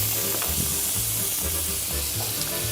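Scored foie gras sears in a hot pan with a loud, dense, continuous sizzle and hiss, close up and steady throughout, with no voices.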